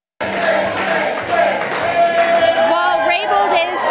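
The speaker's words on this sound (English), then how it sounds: "You can hear the crowd is chanting her name" An election-night primary celebration crowd chanting a candidate's name, a loud, close, sustained mass of voices with cheering and clapping mixed in.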